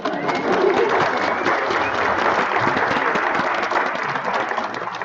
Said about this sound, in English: Yes, now you can applaud.